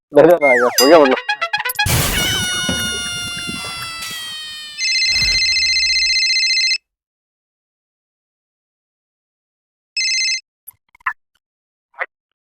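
A mobile phone rings for an incoming call, its tone sounding in a long burst and then again briefly, after a stretch of cartoonish boings and other sound effects.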